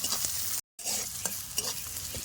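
Onions sizzle and are stirred in a pan for a village-style meat curry, a close, steady crackling fry with scraping stirs and a brief silent dropout early on; no speech.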